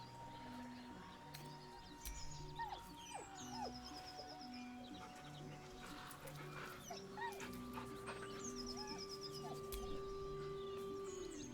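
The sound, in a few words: dog Scratch whining, from video game Baldur's Gate 3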